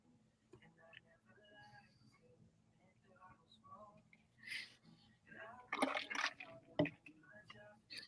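Coffee being sipped during a casual home livestream: a few soft, wet slurps stand out over quiet background and people chatting nearby.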